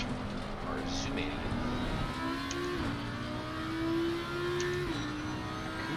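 Ferrari race car in Iron Lynx livery at Zandvoort, engine note rising and shifting through gears, steady and fairly close, with commentary talk running over it throughout.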